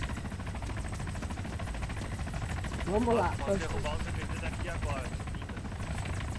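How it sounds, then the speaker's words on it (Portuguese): A helicopter in the Arma 3 Altis bank assault mission thrums with a steady rotor chop over engine noise, joined by someone talking and a short burst of chatter in the middle. "Espota aí, helicóptero. Do aeroporto."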